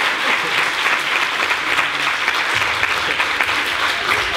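Loud, continuous clapping from an audience at a kendama battle, dense and close, holding steady for several seconds with a few low thumps underneath and no speech.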